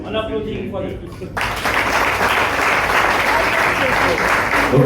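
Audience at a slam poetry café bursts into loud, sustained applause after a brief spoken introduction, the clapping steady and close right to the end.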